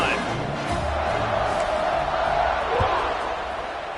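At a college football game the stadium crowd makes a broad, steady roar of cheering through the whole stretch, with a commentator's voice running over it.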